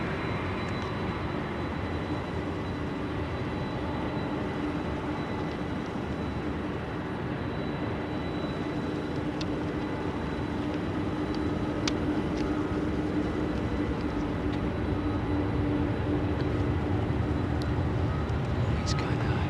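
A UPS freighter jet rolls down the runway on takeoff at Louisville, a loud, steady broadband engine roar that holds throughout and swells slightly toward the end, with people talking over it.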